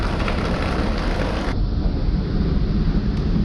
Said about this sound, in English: Another big, huge gust.